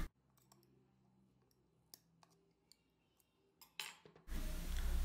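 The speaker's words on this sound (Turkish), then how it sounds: "Vakumlandığı için önce bir bıçakla kapağın kenarından havasını alıyorum." A knife tip clicks and scrapes at the edge of a vacuum-sealed glass pickle jar lid, giving a few faint ticks, then a brief hiss of escaping air and a louder rush near the end.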